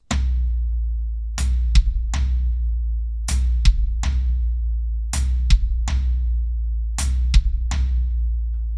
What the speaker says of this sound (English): we're then back down together with the right hand on the floor tom and the hi-hat, a bass drum, and then a right hand on its own